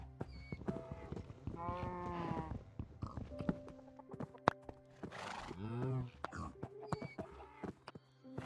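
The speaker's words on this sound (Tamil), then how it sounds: "குதிரையில சவாரி" A horse in the Minecraft video game whinnies with a rising, harmonic neigh, plus clip-clop steps, game noises and a second whinny near the end, with talk mixed in.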